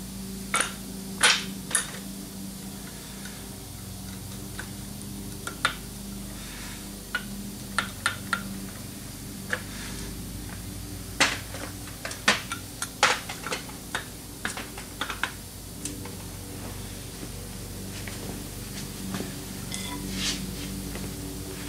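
Light hammer taps on new kit bolts of a Dana 44 axle during a rebuild, tapped gently to align them: sharp, close, irregular ticks scattered over a low workshop hum, with no talking.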